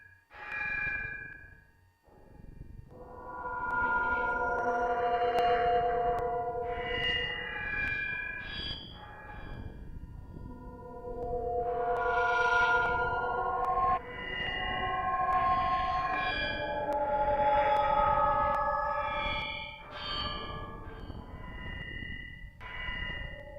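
An E-mu Emax synthesizer patch swells and fades under a really slow LFO, layered tones and tinny harmonics wavering slowly in long waves, fairly quiet and alone with no talking.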